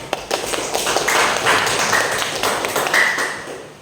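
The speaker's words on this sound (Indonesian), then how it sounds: "Ya kita kasih aplaus untuk kawan kita" A classroom of students applauds a classmate in a dense burst of clapping that swells and holds steady for several seconds before tapering at the end, with a few bright taps mixed in.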